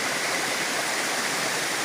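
A long, low waterfall panel rushes in a steady, dense broadband roar, close and even for the whole moment with no voices.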